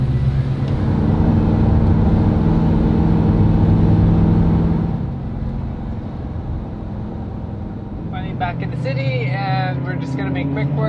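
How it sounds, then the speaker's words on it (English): A classic car's engine pulling in first gear, a loud close steady drone that eases off midway, with a voice talking over the engine near the end. "The gears of this car are so long. This is first gear."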